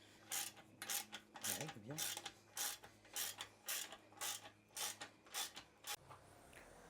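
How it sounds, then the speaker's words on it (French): Ratchet wrench driving screws on a Toyota Celica under restoration: a steady series of about a dozen clicking, grinding ratchet strokes, close and fairly loud, with brief speech in between. "il va falloir que tu prennes un cliquet pour les vis"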